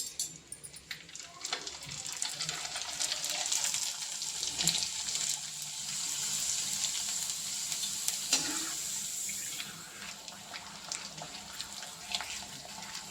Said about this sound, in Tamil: நான் அப்பளம் போட்டு காட்டுறேன்.